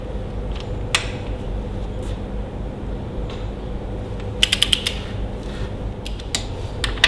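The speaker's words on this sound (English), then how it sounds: "so I've got the torque wrench set on 60 now" Torque wrench tightening bolts to 60 on a Ferguson TEA20 tractor, scattered metallic ratchet clicks and a quick run of clicks over a steady low engine-like hum.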